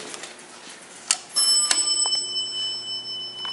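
A freight elevator's alarm bell: a bright ringing tone starts abruptly and sustains with a few sharp metallic strikes, over a quiet background hum.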